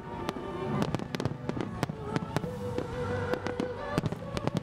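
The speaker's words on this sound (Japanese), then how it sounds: "フィナーレではいくつもの花火が一斉に打ち上がり、会場からは大きな歓声が上がります。" Rapid crackling bangs of a fireworks finale at a festival, many shells launched at once in dense succession, sharp pops layered over a rumbling backdrop with faint crowd noise.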